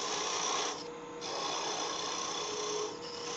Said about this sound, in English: 1/8 inch parting tool gets in there very easily.